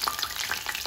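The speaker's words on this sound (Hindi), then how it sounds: "थोड़ा टाइम जरूर लग सकता है आपको तलने में" A mushroom veg snack deep-frying in oil in a kadhai, a steady close bubbling crackle with small pops scattered throughout and no talk.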